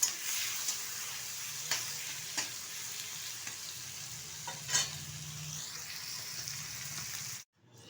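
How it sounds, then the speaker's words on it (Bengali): Washed prawns with a little turmeric frying lightly in oil, a steady quiet sizzle with occasional spatula scrapes and taps, close up, cutting off abruptly at the end. "চিংড়ি মাছটা হালকা করে ভেজে তুলে নেবো একটা পাত্রে"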